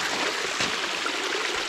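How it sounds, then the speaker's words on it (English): Water trickling down a beach from worn sandstone rocks on the Lake Superior shore forms a continuous, fairly steady splashing wash with no talk. "one big kind of trickling waterfall"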